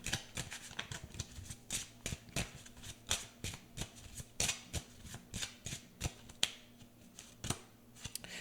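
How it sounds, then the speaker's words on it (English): Tarot cards are shuffled by hand close up in quick flicking riffles and taps, a rapid crisp papery rhythm that runs throughout at low volume with no talking. "So let's go ahead and grab another card."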